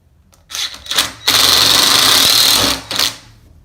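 A power screwdriver drives an H9 screw through a foosball table handle into the end of its rod on a KICK Voyager 55-inch table, giving two short whirring bursts, then a steady close buzz of about a second and a half, then a final brief burst.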